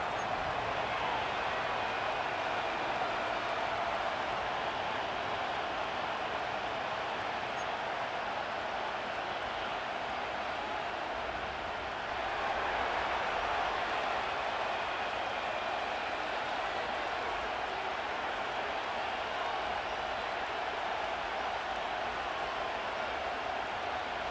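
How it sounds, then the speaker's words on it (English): Stadium crowd at Lincoln Financial Field in an EA Sports football game, a steady broad roar of cheering fans that swells slightly midway, continuous and dense throughout. "The crowd is definitely ready."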